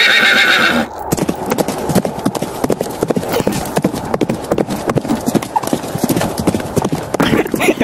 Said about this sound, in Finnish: No niin, hevonen. Astun selkääsi, joten voidaan lähteä.